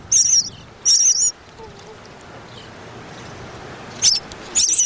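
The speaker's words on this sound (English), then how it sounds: "Those are birds, and we're gonna watch them." Small birds give quick, high, thin chirps in short bursts separated by quiet gaps, fairly close, over a low background hum.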